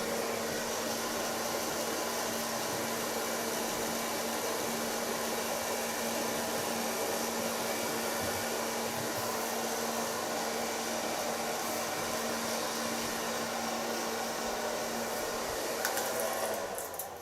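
A hair dryer blows steadily and loudly on a short neon-coloured pixie cut in a salon, a continuous whooshing roar with a faint tonal hum that holds unchanged throughout, with no talking over it.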